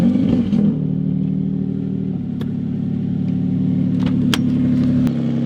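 A Nissan Z with a turbo, recently blown, idles steadily after starting, a loud, close, even mid-pitched engine drone with a slight shift in tone partway through and no talk.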